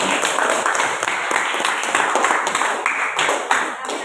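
A class of students claps for a group's presentation, with close, individually distinct handclaps forming an uneven, lively patter that carries on steadily for about four seconds.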